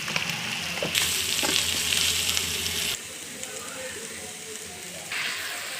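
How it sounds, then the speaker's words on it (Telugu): Chili powder sizzling in hot oil with masala for a chicken curry, a close crackling fry that surges loudly at first, drops abruptly quieter, then swells again. "మసాలా ఆయిల్లో కారప్పొడి వేస్తున్నాను"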